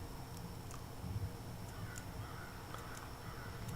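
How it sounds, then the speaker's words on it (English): Crows caw faintly in the distance in Fallout 76, a few scattered, spaced calls over a steady low ambient background. "Birds cawing in the distance."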